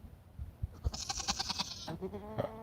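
Goats on a small farm bleat in a quick run of nasal, wavering calls, fairly close and moderately loud, with low rustling and handling noise underneath.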